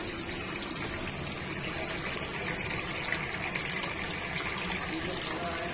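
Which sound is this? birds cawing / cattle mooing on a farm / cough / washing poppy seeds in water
washing poppy seeds in water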